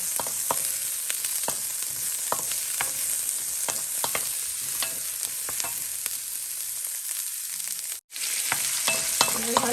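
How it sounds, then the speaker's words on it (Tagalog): Vegetable stir-fry with shrimp being stirred in a hot pan, a steady sizzle under repeated scraping strokes of the utensil, with a brief drop to near silence shortly before the end. "Haluin lang natin hanggang ito ay maluto."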